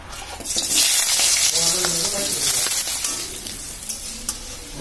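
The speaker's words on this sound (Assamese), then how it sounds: "আকৌ আলুখিনি ভাজি ল'ম" Potatoes fry in hot oil in a wok, a loud, close sizzle with crackling and occasional stirring scrapes, swelling early then settling into a steadier hiss.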